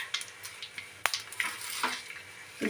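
Cumin, mustard seeds, nigella, ajwain and radhuni hit hot oil for a fish curry, giving a faint sizzle broken by quiet popping crackles and a few light utensil taps.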